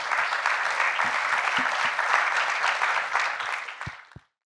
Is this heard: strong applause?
yes